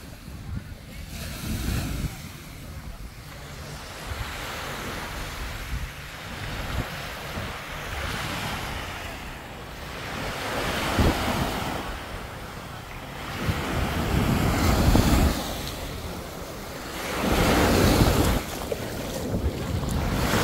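Ocean surf rolls in at Miami's South Beach, waves swelling and breaking every few seconds under gusty wind noise, with occasional voices nearby.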